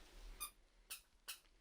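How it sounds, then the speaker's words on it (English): A dog plays with a squeaky toy, three short faint squeaks spaced apart over quiet background. "Death Taxes and Trues the dog playing with the squeaky toys"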